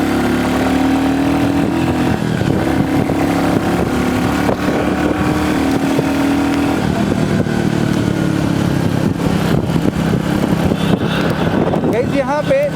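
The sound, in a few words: Royal Enfield Classic 350 motorcycle engine while riding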